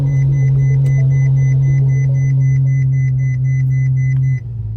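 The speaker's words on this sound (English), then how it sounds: "The car beeps a lot." Ferrari FF warning chime repeating in a steady rhythm of short paired beeps over a loud, constant low engine idle hum, continuing for several seconds before cutting out near the end.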